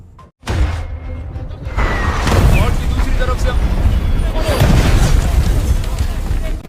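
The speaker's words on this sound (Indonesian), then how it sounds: "mereka menyiapkan serangan jarak jauh dengan senjata mortir" Mortar bombardment in a war film depicting UAE elite troops against a sniper: a sudden heavy boom opens a long rumbling barrage of blasts and debris that stays loud and dense throughout.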